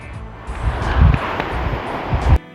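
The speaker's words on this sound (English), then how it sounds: "All I can hear is the wind" Wind along a woodland footpath in a nature reserve, gusty rumbling buffets against the microphone rising and falling over a soft rustling background.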